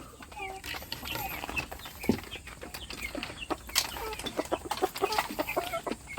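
Backyard heritage chickens of a Rhode Island cross cluck and chatter nearby in a busy, overlapping flock, with sharp short calls scattered throughout over a low outdoor hum.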